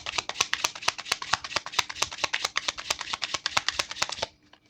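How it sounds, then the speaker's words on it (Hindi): Tarot cards are shuffled by hand in a rapid, close riffle of crisp flicking slaps that runs steadily for about four seconds, then stops. "okay, so let me shuffle and check the more"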